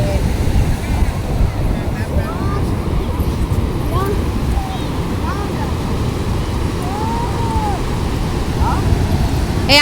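Ocean waves surge and wash continuously on a beach during a family trip, a steady broadband roar with wind buffeting the microphone and faint voices and distant calls mixed in throughout.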